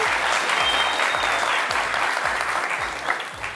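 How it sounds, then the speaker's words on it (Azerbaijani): A TV show studio audience applauds, a loud, dense burst of clapping that carries on steadily with low music pulsing underneath. "Bir alqışlayın, gəncliyin enerjisini hiss edək."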